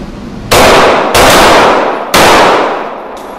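Three loud, sharp pistol shots fired from a low ready position on a shooting range, spaced unevenly about a second or more apart, each with a long decaying ring, and a fainter fourth report at the very end.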